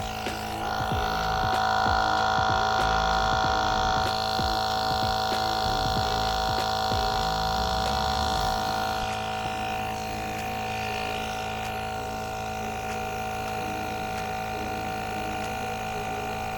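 An Auhma/Rever cordless air compressor inflates an electric bicycle tyre with a steady buzzing hum and rhythmic throbbing pulses from its pump, which grow softer and smoother partway through as the motor keeps running.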